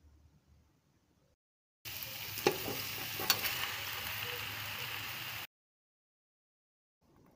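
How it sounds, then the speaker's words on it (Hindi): Shredded cabbage fries in a pan for chicken macaroni, giving a steady close sizzle with a few clicks of a spoon stirring. It starts abruptly after a quiet lead-in and cuts off just as suddenly. "बंद गोभी को 2 मिनट के लिए फ्राई करेंगे और इसके बाद हम मैकरोनी शामिल कर देंगे।"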